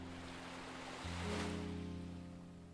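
Gentle ocean waves wash onto a shore in a soft, steady surge that swells slightly midway, heard alone beneath a faint low musical drone.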